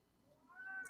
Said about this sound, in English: My cat is totally freaking out.